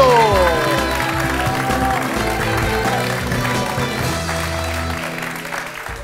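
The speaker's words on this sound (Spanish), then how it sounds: "¡Aplauso!" Studio audience applause on a Spanish-language quiz show, dense clapping that starts loud and slowly fades, with a host's voice calling out over it.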